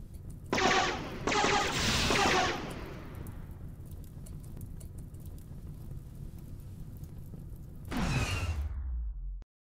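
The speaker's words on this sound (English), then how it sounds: "just shot Renton in the back and destroyed our liver trying to kill something that was completely unnecessary." Gunfire in the Rimworld video game during a desert raid, loud bursts of rapid shots with whooshing sweeps, a lingering rumble, then a final burst before an abrupt stop, no talk.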